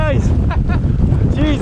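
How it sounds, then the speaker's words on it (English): Strong, gusty wind buffets the microphone during a mountain bike ride at Cademuir, making a loud, continuous low roar that fills the whole stretch, with faint traces of a voice underneath. "It's so windy."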